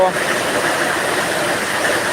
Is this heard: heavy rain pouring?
yes